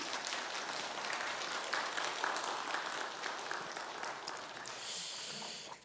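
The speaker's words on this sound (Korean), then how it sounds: "위로하는 박수 했으면 좋겠습니다" A church congregation claps together during a Sunday worship service, a dense, continuous patter of applause heard faint and distant throughout.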